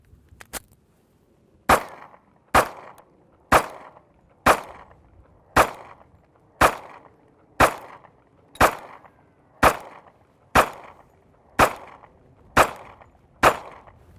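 Gunfire from a handgun emptying a full magazine after a boating accident test, about thirteen sharp, evenly spaced shots roughly a second apart, loud and close, with no voices.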